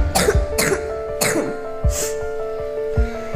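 A young son coughing at home, several harsh close coughs in quick succession with short pauses between them.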